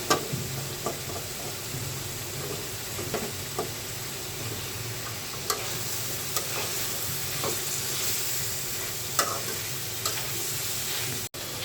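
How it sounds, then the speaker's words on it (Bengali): Vegetables sizzle steadily in a spiced masala while a spoon stirs them, with scattered scraping knocks against the pan throughout and no voices. "এখন আমি সবজিগুলো আগে দিয়ে দিচ্ছি।"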